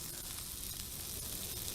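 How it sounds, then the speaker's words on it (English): A soft, steady sizzle of rice and cashews frying in a pan, a continuous hiss at low volume with no voices. "Whilst that's frying away,"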